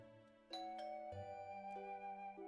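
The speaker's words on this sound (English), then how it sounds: "I jumped slightly at the sound of my doorbell ringing." A doorbell chimes in a video game's visual-novel scene, several bright ringing tones sounding one after another with long sustained overtones, fairly quiet and with no voices.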